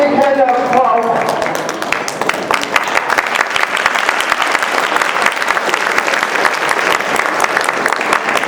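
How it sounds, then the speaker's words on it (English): Audience at a technology association's annual meeting applauds loudly and steadily, a dense wash of many hands clapping that holds for several seconds, with brief voices near the start. "Let's give him a big hand of applause."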